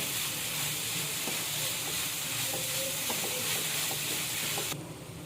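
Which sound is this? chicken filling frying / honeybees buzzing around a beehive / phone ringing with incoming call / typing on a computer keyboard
chicken filling frying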